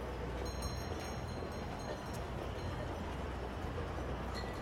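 A tram rolls steadily along its route in the city-building game Cities: Skylines II, producing a continuous low rumble with faint metallic squeals above it and no speech.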